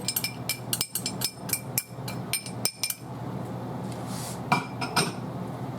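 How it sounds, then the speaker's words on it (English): A spoon stirs cranberry ketchup in a pot on a lowered heat, clinking and scraping against the metal in a quick run of sharp knocks, then the stirring settles into a softer, steadier scrape. "Stir it just a little bit until I get all these goodies in here."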